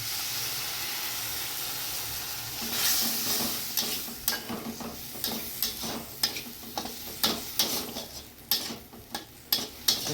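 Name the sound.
frying ground spices with ginger, garlic and onion in oil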